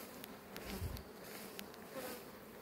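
Honeybees buzz steadily at an open beehive during a colony transfer, a close, continuous insect drone that holds at an even level throughout with no voices.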